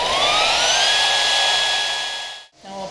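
An AGP HP1400 high-frequency beveling machine spins up with a rising whine that levels into a steady, loud high-pitched tone, briefly dipping near the end before resuming.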